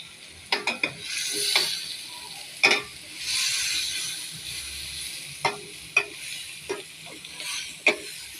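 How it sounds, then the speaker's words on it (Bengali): Sweet pumpkin, potato and onion fry in a pan with a steady sizzle, punctuated by irregular clacks and scrapes of a utensil stirring, close and clear without speech. "এখন আমরা মিষ্টি কুমড়া ভাজি করতেছি। মিষ্টি কুমড়ার সাথে একটা আলু দিয়ে দিলাম।"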